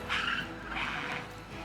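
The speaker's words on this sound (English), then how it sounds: "attracted by the sound of the car tires" Car tires hissing and skidding on a road surface outdoors, a couple of swelling passes at moderate distance over steady background noise, with no talk.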